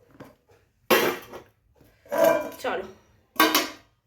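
Metal lids clank onto pots of cooked food in a home kitchen, three distinct clattering bursts with short pauses between, and a voice speaks briefly before the first.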